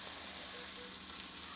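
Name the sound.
onion frying in oil on a griddle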